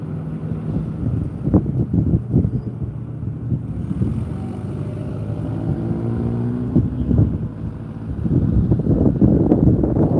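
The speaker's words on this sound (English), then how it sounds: "I'm trying to block the wind the best I can." Outdoors, wind buffets the microphone in heavy rumbling gusts, loud and constant, with a few knocks and handling thumps and a stronger blast toward the end.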